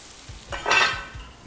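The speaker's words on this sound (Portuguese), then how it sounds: "Minhas batatinhas estão começando a dourar e meu salmão também" Salmon fillet and small potatoes browning in a pan, with a soft steady sizzle and a few stirring and utensil scrapes against the pan, heard close up with no talking.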